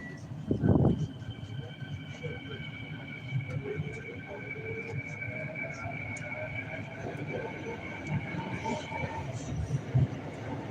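A train sits at a station, its low rumble and steady motor hum filling the space, with faint tonal whines drifting in the background and a brief thump near the start.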